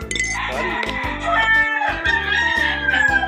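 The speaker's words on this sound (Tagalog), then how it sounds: "pakain tayo ng manok" Chickens cluck and a rooster crows loudly and close by on a game farm, with a steady low hum running underneath and no voices.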